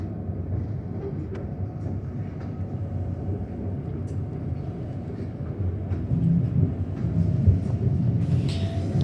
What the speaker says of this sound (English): Always so much shaking on the tracks leaving towards Richmond,